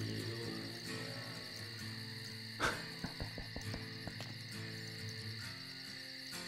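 Crickets chirp steadily in the night ambience of Vampire: The Masquerade – Bloodlines, layered over soft game music, with a few brief clicks and thumps partway through.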